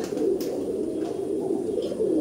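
Kabji pigeons in a loft room cooing in low repeated throaty calls, close and steady, with faint chirps and rustles in the background and no talk.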